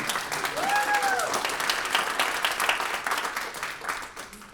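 Audience claps at an awards and recognition ceremony honoring Warren Zevon, steady crowd applause with a short whoop early on, tapering toward the end.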